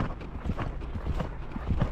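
Hooves of an ex-racehorse drum in quick, heavy beats on the ground during a ride, close and fairly loud for about two seconds.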